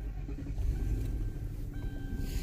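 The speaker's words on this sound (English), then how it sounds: "So I'm gonna turn the car on." Car engine running steadily at close range, a continuous low rumble with slight fluctuations and no talk over it.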